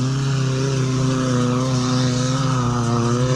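A dirt bike engine revs hard at a motocross track in New Zealand, giving a loud, steady, high droning whine with no voices over it.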